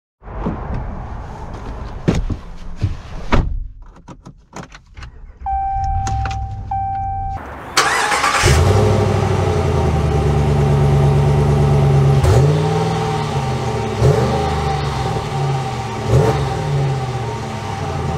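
A Ram 1500 Warlock pickup truck starts after a few clicks and a chime, then its engine idles loudly and revs repeatedly in swelling surges close by.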